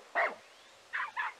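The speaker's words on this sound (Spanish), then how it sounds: "Es que solo los perros ladran como unos condenados." Dogs barking outdoors, one sharp bark followed after a pause by two more in quick succession, moderately close against a quiet background.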